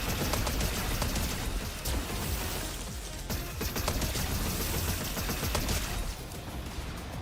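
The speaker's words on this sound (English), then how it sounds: "Love it when they shoot each other." Dense blaster fire from hordes of Stormtroopers shooting each other in Fortnite, a continuous crackle of overlapping shots and mechanical clatter without talk.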